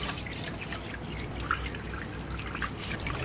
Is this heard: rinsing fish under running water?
yes